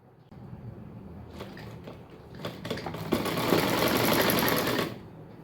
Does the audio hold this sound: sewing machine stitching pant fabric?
yes